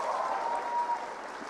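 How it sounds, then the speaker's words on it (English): An audience at a talk on menstruation stigma gives a brief round of applause, a short diffuse patter of clapping with a faint tonal hum beneath it. "Let's have a big round of applause."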